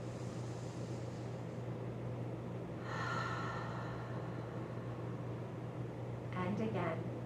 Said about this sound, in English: Inhale again.